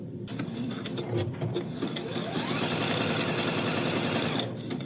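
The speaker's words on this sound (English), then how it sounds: "now that we have our machine embroidery done" A machine-embroidery sewing machine stitches a detail onto an appliqué hand mixer quilt block, a fast, steady mechanical chatter that runs close and continuous before stopping near the end.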